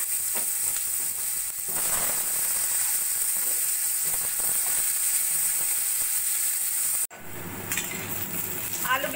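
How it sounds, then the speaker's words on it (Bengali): Potato and eggplant pieces frying in hot oil for a rui fish curry give a loud, steady sizzle with faint stirring clatter; the sizzle cuts out briefly near the end, then resumes. "এবার আমি আলু আর বেগুন ভেজে নেব।"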